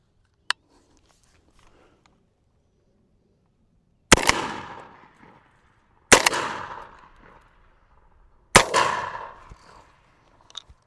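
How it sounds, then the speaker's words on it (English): A 12-gauge shotgun fires buckshot at a target three times, each loud, sharp blast a couple of seconds apart followed by a short decaying echo outdoors, with a faint click before the first shot and quiet between. "I'm going to shoot 3 shells at this target again, and that means sending 36 pellets towards this direction."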